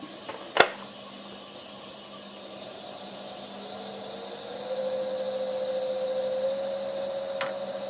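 A wood lathe set to about 750 RPM for turning a maple bowl hums faintly, with a sharp knock near the start, then the motor spins up to a steady, louder whine that holds to the end.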